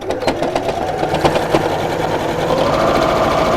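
A sewing machine stitching a zipped pouch runs steadily and close, its fast needle chatter holding a continuous mechanical hum for a few seconds with no talking.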